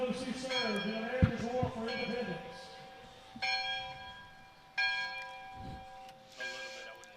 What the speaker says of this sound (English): we got a gentleman ringing a reproduction bell here